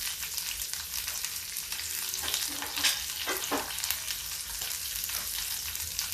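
Onions frying with cooked masala in a pan on high heat, a steady broadband sizzle with occasional scraping stir strokes, close and continuous.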